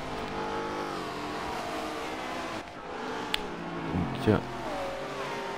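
An Aston Martin V8 Vantage V600 in Forza Motorsport 7 at Mount Panorama revs and slides under throttle, engine note sweeping up and down with a short squeal near the end, while someone talks over it.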